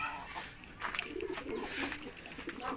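Racing pigeons cooing at a loft during morning training, soft low murmuring coos repeating close by over a steady background hiss, with no voices present.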